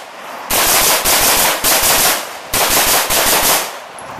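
A carbine fires rapid strings of shots at targets on a shooting range, loud and close, in several long back-to-back bursts with only brief pauses between them and no talking.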